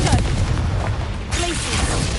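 The Confringo fire spell erupts in Hogwarts Legacy, giving a heavy, rumbling blast with a sustained roar and a second surge of noise midway.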